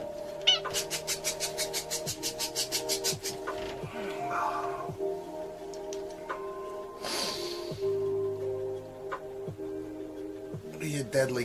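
A cat meows and caterwauls amid snorting breaths and rapid rhythmic pulses, with a voice talking over it at times.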